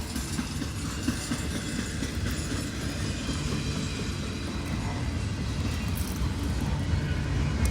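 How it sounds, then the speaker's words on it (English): A long freight train hauled by three engines rolls past close by, a steady loud rumble of wheels and cars with faint clickety-clack, continuous throughout with no talk. "This train is probably going to be really long."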